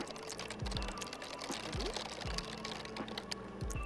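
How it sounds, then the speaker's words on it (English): Computer keyboard typing in The Sims 2, a quiet run of soft, irregular key clicks heard close up and alone. "I love the typing noise. It's so ASMR."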